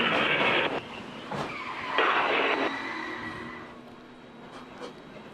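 A 2018 NASCAR Cup Series race car wrecking, heard from onboard: tires skid and squeal over the roar of the engine, loud at first, then settling into a steadier, duller drone.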